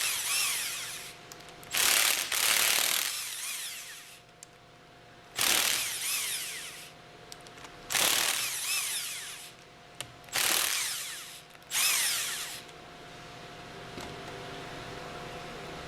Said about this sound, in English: Use the impact wrench with a 12 millimeter hex attached to loosen the 8 valve plate